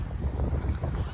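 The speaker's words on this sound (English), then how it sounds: "it's very windy" Heavy wind outdoors at sunset, buffeting the microphone with a constant low, roaring rumble that holds at a steady loudness with no other sounds on top.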